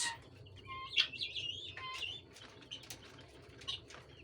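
Grey francolins at a farm that also keeps Chinese and local chickens give sharp, high chirps and calls, with a burst of wing flapping near the start, all over a steady low farmyard rumble.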